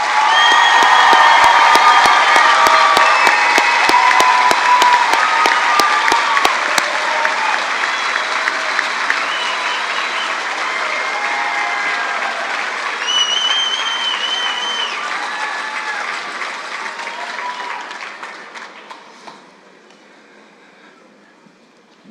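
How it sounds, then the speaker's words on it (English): A graduation audience applauds the class of 2024, sustained dense clapping with scattered cheers filling a large hall, loud at first and gradually thinning before fading out near the end. "Let's give the class of 2024 a big round of applause."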